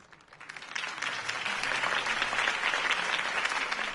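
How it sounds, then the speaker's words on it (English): A crowd applauds a campaign speech inside a Batman video game, the dense clapping swelling within the first second and then holding steady and loud to the end. "If only Mr. Wayne, my campaign's largest backer, could have heard that applause"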